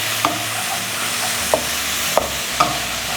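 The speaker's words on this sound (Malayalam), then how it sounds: "പൈനാപ്പിൾ ആ നെയ്ക്കകത്ത് കിടന്നൊന്ന് വഴറ്റിയെടുക്കുക." Pineapple sautés in ghee for a pineapple kesari, a soft continuous sizzle broken by four sharp stirring taps of a spoon against the pan at regular intervals.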